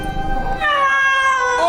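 An animated CGI cat from the Catwoman film lets out a drawn-out, slowed-down meow, loud and close, its pitch bending as it stretches over nearly two seconds with no talking.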